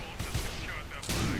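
Plasma cannon in Tribes Ascend fired at a generator, several heavy booming discharges in quick succession, loud and close, with game noise between shots.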